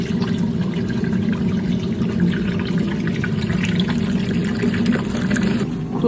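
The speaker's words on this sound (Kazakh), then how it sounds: "Мұздай су құямыз." Icy cold water poured into a cooking pot before boiling meat, a steady, close, continuous gush lasting several seconds with no break.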